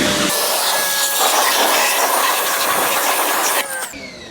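Pressure washer fitted with an angle tip, powered by an EcoFlow DELTA 2 Max power station, runs with a steady loud hiss and whine of spraying water, cutting off abruptly near the end.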